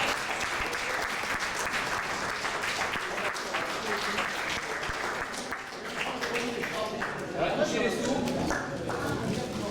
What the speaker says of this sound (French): Nous pouvons l'applaudir, nous, en tout cas.